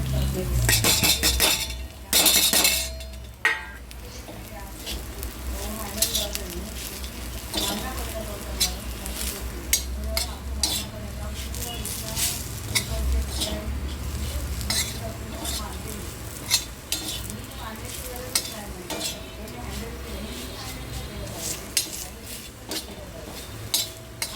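Cluster beans fry in a pan with a soft sizzle under frequent clinks and scrapes of a spoon stirring, including a louder clatter near the start and a voice speaking at times.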